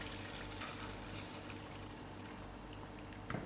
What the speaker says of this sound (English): I'm going to add in a liter of water rinsed out with my marinade